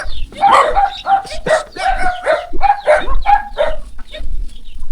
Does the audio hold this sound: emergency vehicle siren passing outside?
no